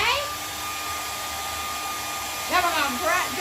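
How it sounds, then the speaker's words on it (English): A hand-held hair dryer blows steadily at close range while drying paint on a canvas, giving a constant whirring hiss with a thin whine. Brief vocal sounds rise over it near the start and end. "So you're going to grab your hair dryer."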